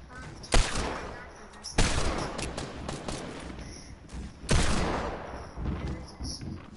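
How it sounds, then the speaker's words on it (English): Desert Eagle pistol shots in a video game: three sharp, loud reports spaced about a second or more apart, each with a short decaying tail over quieter background game noise. "Somebody has a deagle."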